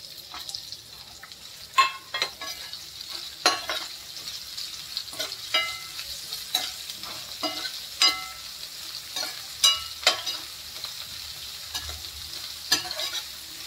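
Onion and green chillies with curry leaves fry in a pan for a dry potato bhaji, giving a steady low sizzle. A spoon scrapes and stirs at irregular intervals, each stroke a sharp close clack over the constant frying.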